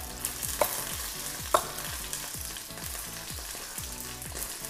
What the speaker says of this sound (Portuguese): Vou retirar ela aqui da frigideira.